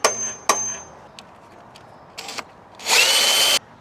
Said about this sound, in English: now that I've drilled through it, it makes it a little more obvious